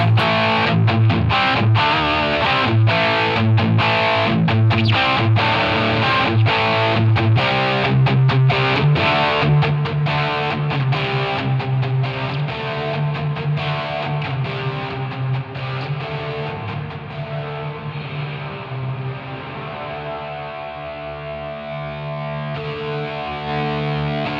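Heavily distorted electric guitar through a Line 6 Helix plays a steady chord progression, the reverb mix rising so the tone grows washier and more distant toward the end.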